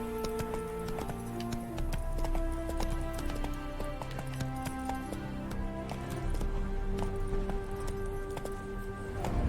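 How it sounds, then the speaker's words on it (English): Roach, the horse in The Witcher 3, gallops with quick hoof clip-clops under loud, full orchestral game music. "Spooking my horse."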